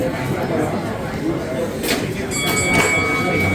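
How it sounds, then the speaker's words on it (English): A steep-incline train pulls into a station in Australia with a low rumble, rattling, and faint high squeals from the wheels as people talk nearby. "our train has arrived"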